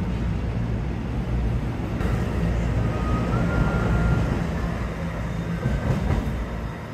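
A commuter train at Trenton station rumbles close by, a steady loud roar of wheels and motors with rattling and a brief squeal of metal, no voices.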